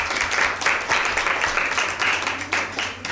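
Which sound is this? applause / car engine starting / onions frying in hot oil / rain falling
applause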